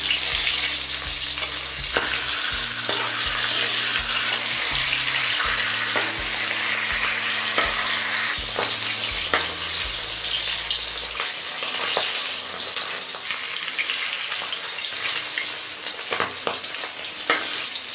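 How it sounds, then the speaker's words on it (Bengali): A fish head rubbed with salt and turmeric fries in mustard oil heated on a high flame, with a loud, continuous sizzle and faint stirring. A low tonal hum runs underneath during the first half. "এখন নুন হলুদ মেখে মাছের মাথাটা ভেজে নিচ্ছি"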